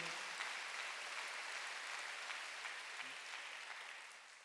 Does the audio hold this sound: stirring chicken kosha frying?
no